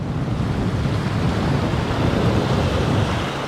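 Strong coastal wind roars steadily on a rocky shoreline during rock fishing, blended with the constant wash of surf and buffeting the microphone without a break.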